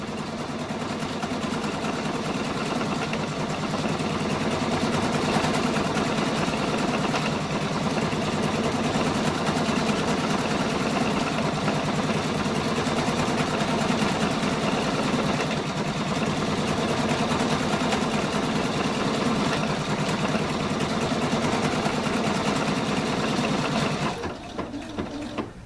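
A Pfaff Quilt Expression 720 sewing machine stitches a quarter inch from the fabric edge, a steady, close mechanical whir and needle rattle running unbroken for over twenty seconds before stopping.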